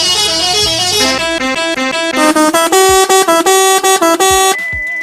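Loud, bright bus horn in the Bus Simulator Indonesia game, playing a rapid melodic sequence of sustained blaring notes that builds into quick repeated staccato bursts before ending with a lower held tone.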